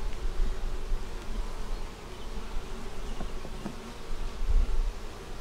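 Honey bees hum steadily and close around the open frames of an 8-frame deep hive box, a continuous dense buzz with faint handling bumps and no talking.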